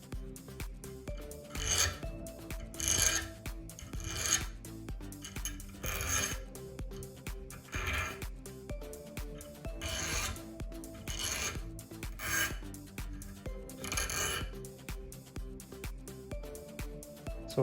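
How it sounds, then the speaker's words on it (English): Burrs being filed off the gapped end of a piston ring during an LS engine build, heard as short, close, rhythmic rasping strokes repeated steadily over a faint background hum, with no talking. "So now we'll just nick the burrs off."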